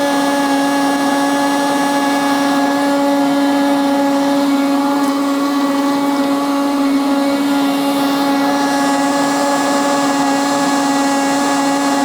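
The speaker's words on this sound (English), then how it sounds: "Let's go ahead and put that in the blender." A blender whirs steadily through watermelon, lime, sugar, salt, Tajin and ice, a loud continuous motor drone with a grinding rattle that holds at one level throughout, with no talking.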